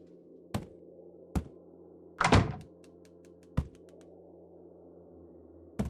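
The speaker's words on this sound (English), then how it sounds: "At this late hour, the marble sound starts." Marble sounds in the Chinese horror video game Dread Flats: sparse, hollow thunks knock at uneven intervals against a quiet hum, with one longer rattling roll in the middle, fairly faint and without speech.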